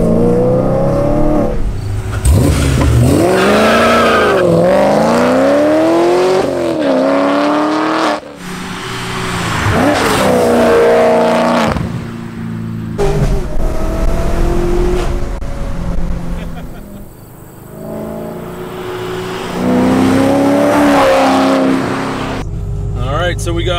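A sixth-generation Chevrolet Camaro with a manual gearbox drives and revs, its engine rising and falling through loud repeated pulls from up close, with short lifts between gear changes and people talking over it.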